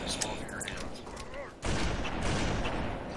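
Shotgun blasts and gunfire in an online Halo 2 match, with a muffled battle din and faint game voices early on, then a sudden loud, dense blast and rumble midway through.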